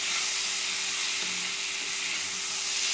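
Jackfruit masala fries in a pan with a steady, loud, unbroken sizzle while it is stirred, with no voices over it.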